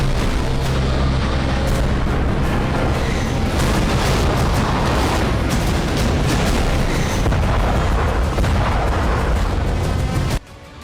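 Artillery explosions in the Nagorno-Karabakh war, a dense continuous barrage of deep booms and rumbling blasts, loud and sustained before cutting off abruptly.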